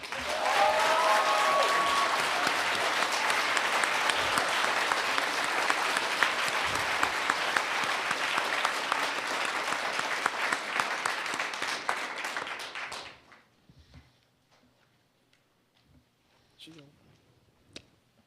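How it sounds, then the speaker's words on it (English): A seated audience applauds a panel at a community conference on interrupting violence, loud sustained clapping for about thirteen seconds that stops abruptly, followed by a few faint scattered claps and quiet room noise. "can we please have a round of applause for our panel?"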